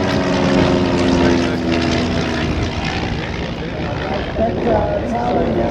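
A RAAF 100 Squadron CT-4 propeller aircraft drones steadily overhead, its engine and propeller hum loud and sustained. Someone talks over it.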